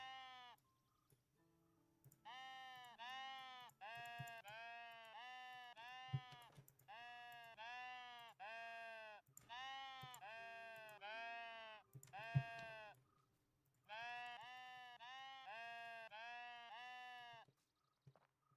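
Sheep bleating over and over in the video game Tiny Glade, long wavering cries one after another with brief gaps, clear and fairly close.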